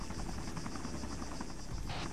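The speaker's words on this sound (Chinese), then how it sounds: "这他妈特别小一个直升机，这直升机估计还没一辆摩托大" A very small helicopter in the Arma 3 video game gives a continuous buzzing rotor hum at steady, moderate loudness throughout the short stretch, with no talking over it.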